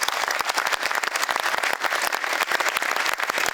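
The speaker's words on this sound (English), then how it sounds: "How about we get a round of applause?" A conference crowd at a schools technology awards keynote gives a lively round of applause, many hands clapping in a dense, even patter throughout.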